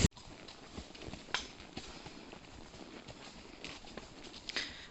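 A horse walks along a woodland trail, its hooves landing in a soft, steady clip-clop of footfalls under faint rustling, with occasional brighter knocks standing out, moderately close throughout.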